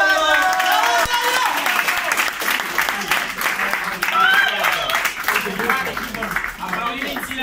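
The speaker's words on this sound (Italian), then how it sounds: "Un applauso a Antonio!" Applause for Antonio at a regional awards ceremony in Messina, a sustained crowd clapping under loud cheering and overlapping voices, with a few whistles standing out.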